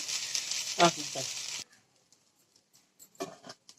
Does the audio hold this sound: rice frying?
yes